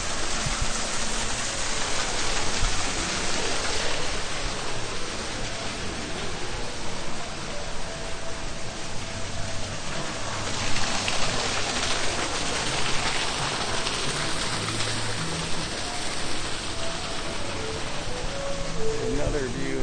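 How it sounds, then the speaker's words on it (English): A waterfall at Disney's Animal Kingdom pours in a steady, dense rush of splashing water, constant and fairly loud, with faint crowd murmur blended beneath. "Another view of the waterfall."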